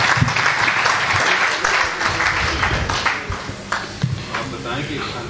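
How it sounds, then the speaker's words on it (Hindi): An audience at a poetry recital applauds in a sustained burst of clapping, with a voice speaking over it. "तालियों की आवाज आनी चाहिए यार"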